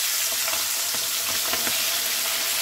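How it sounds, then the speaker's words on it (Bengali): Prawns fry in hot mustard oil, giving a dense, loud, continuous sizzle with a few faint clinks of stirring rising through it. "এবার আমি আগে চিংড়িগুলো ভেজে তুলে নিচ্ছি"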